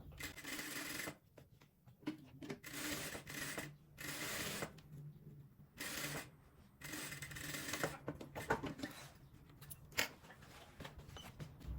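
A sewing machine with a standard presser foot stitches a trouser fly seam in several short, close bursts of rapid mechanical whirring, separated by brief pauses.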